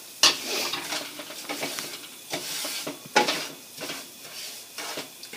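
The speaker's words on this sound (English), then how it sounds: "fry my SOOJI" Semolina frying for sooji halwa as a spoon scrapes and stirs it around the pan, with repeated clinks and scrapes over a soft sizzle, close by.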